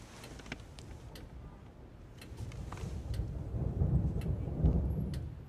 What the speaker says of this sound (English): Here's a storm.